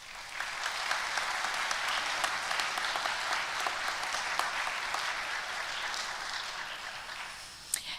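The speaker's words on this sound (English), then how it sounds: "Please give them a round of applause." Steady, fairly distant applause from an audience at an annual piano ensemble concert, a broad wash of clapping sustained evenly throughout.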